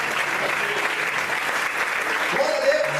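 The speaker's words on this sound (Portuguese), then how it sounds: "Você pode aplaudir a Deus por isso?" Congregation applauding in a church during a sermon, a steady dense wash of clapping throughout with some voices mixed in.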